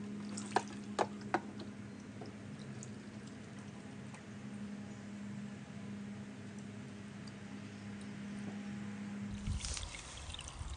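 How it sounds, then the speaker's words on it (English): A Hydrofarm 550 gph submersible pond pump runs with a steady low electric hum under faint trickling water, then cuts off near the end with a brief rush of splashing. "here's the pump up and running"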